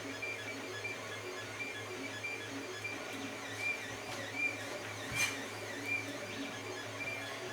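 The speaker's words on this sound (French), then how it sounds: "Il fait sa première couche, il a fait le cercle intérieur, il a fait le contour et maintenant il commence à remplir." Creality CR-10 3D printer laying down its first layer, with quiet whirring stepper motors making rhythmic tonal sweeps and soft periodic movement bursts over a steady fan hum, close and unaccompanied by speech.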